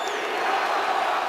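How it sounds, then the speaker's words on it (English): Seattle Seahawks home crowd in a packed stadium, a dense steady roar of thousands of voices during an NFL game against the Atlanta Falcons, loud and continuous with no clear breaks. "Crowd's chanting Seahawks"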